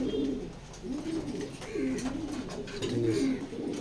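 Racer pigeons coo nearby in low, throbbing phrases that rise and fall repeatedly over a steady low hum, with faint scuffing in the background.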